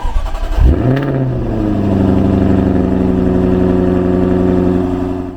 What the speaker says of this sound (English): it features the V8 5-litre engine, and it's an absolute beast, and the exhaust note is amazing